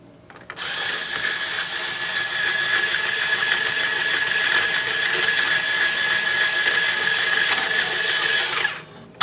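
Steady mechanical whirring as a string is tightened at the tuner of a 1989 Fender Heartfield EX2 electric guitar, one continuous close sound lasting most of the stretch before stopping abruptly.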